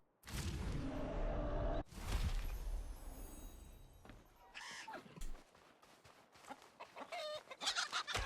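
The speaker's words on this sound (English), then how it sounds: "Oh my god, chickens." Chickens clucking in the video game RuneScape: Dragonwilds, a run of short, bright clucks and squawks over busy game sounds, fairly close and moderately loud, with no talk over them.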